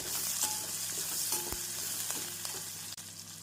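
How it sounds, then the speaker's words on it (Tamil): Onion and garlic sauté in a pan with a steady, close sizzle and crackle, with occasional scrapes and taps of a stirring spoon. "நாம் பூண்டு சேர்த்து நன்றாக வதக்க வேண்டும்."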